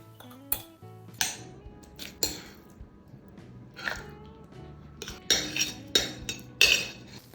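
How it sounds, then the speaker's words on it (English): A spoon clinks and scrapes against a glass jar while mincemeat is packed into it, in separate sharp taps and knocks spread across the moment, close and fairly clear over a quiet background. "Basically need a spoon that can fit inside the jar."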